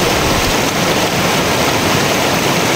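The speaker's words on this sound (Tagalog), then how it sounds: "parang mababaw lang naman pero malakas po yung agos ng tubig" Strong, shallow river current near hidden falls in Aguilar, Pangasinan, a steady loud rush of flowing water with no voices.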